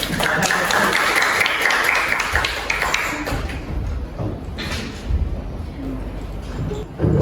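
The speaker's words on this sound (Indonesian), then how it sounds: "Tepuk tangan untuk kelompok 2." Students at a vocational high school applauding a group in a classroom, a fairly close, brisk burst of clapping that fades after about three seconds, leaving scattered taps, thumps and shuffling.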